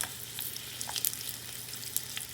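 Green chilies hit hot oil already holding cumin seeds over a very low flame, tempering for Gujarati dhokli kadhi, giving a soft, steady close sizzle with a few brief crackling pops and no talk.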